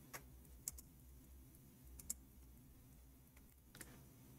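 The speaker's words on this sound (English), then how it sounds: "we are typing in English again." Quiet keystrokes on a computer keyboard come in a few scattered bursts of clicks over a near-silent room, faint and close, with no talking.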